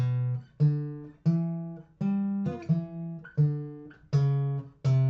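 Walking bass line in C picked on guitar, a series of distinct low plucked notes stepping in even rhythm, each ringing briefly before the next, clear and close with no talking.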